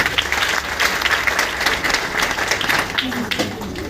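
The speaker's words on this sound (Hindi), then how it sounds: "जी सर, बहुत बड़े जोरदार तालियां होनी चाहिए" An audience at a Kanpur event bursts into loud, sustained applause, dense clapping throughout with voices mixed in beneath it.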